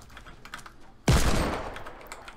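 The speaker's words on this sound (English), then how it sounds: "Shots still happening over here." A single loud gunshot rings out in Fortnite and decays over about a second, with faint keyboard tapping and quiet game ambience before it.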